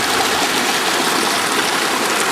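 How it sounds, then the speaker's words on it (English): Mountain stream water rushing down from Sixty Lakes Basin on the Rae Lakes Loop, a loud, close, continuous broadband roar of tumbling water with no pauses. "all this water right here is draining down from the 60 Lakes Basin,"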